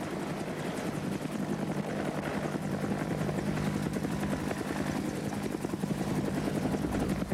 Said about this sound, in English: whether it be a normal helicopter move forward